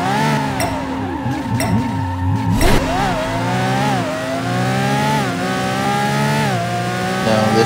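A race car engine in the racing game Apex Racer, revving and shifting through rising and falling pitch sweeps, with tire skids near the start, loud and continuous with no talk.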